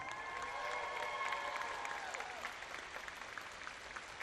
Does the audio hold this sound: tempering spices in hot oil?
no